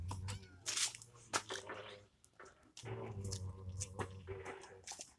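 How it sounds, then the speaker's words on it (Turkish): A cat meows faintly several times amid rustling and crunchy handling noises, with a few quiet voices in the background. "Bak kedi mi ağlıyor şurada?"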